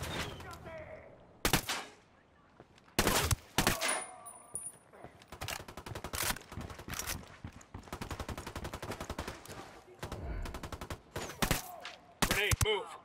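Gunfire during a battle at The Boat Lab, with loud sharp volleys and rapid automatic bursts, some close and some farther off, broken by short pauses and mixed with shouting voices.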